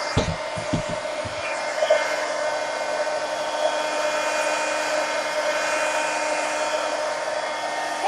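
A heat gun runs steadily to dry paint on a peacock poster, a loud continuous blowing whir with a whining tone, holding an even level throughout after a few brief knocks at the start.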